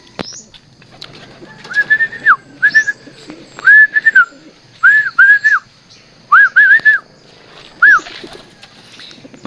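A racing pigeon arriving home at its loft after a 111 km flight from Catanduanes, Quezon, with repeated short whistling coos heard close and clear in bursts over a quiet background.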